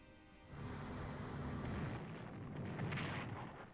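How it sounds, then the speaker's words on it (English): Naval bombardment of Amsterdam in Strategic Command: World at War, a dense, roaring burst of artillery blasts that swells and rumbles for a few seconds, then fades, with no talk. "We're bombarding Amsterdam itself, though"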